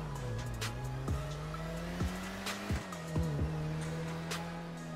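Car engine revving in GTA V, a steady droning tone with several short tire squeals cutting through at intervals, fairly quiet, with no talk over it.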